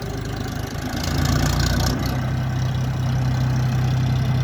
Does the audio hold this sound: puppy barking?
no